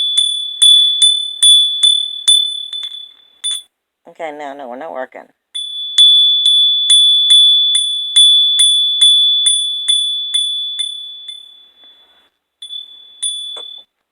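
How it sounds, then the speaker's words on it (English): A small metal hand bell rings in rapid, evenly spaced bright strikes, each tone ringing briefly, in two long runs broken by a short spoken remark, then a couple of final dings close to the microphone. "Now, let me get my bell out"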